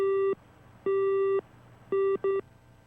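A telephone line sounds a busy tone: four clean beeps of uneven length separated by gaps, moderately loud and alone.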